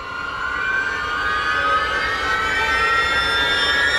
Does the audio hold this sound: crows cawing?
no